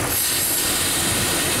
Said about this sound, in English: That's how much air it's sucking. Through the intake manifold gasket.